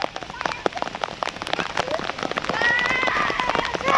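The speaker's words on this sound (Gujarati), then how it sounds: "જોરદાર વરસાદ બી એવો પડે ને" Heavy rain drumming on surfaces close by, dense irregular spatters that swell louder toward the end, with people talking over it.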